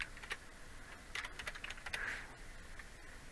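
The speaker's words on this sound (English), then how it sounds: "with the text tool, you click here, you type something" Faint typing on a computer keyboard, a quick run of soft, closely spaced key clicks heard alone.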